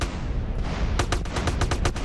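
In GTA, a gun fires a rapid burst of about eight loud shots over dense, noisy game sound, with no talking.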